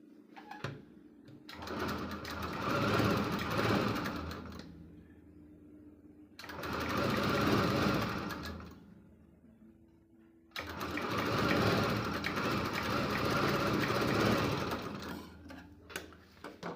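Sewing machine stitching a blouse neckline in three loud, sustained bursts separated by short pauses, close up, with no talking.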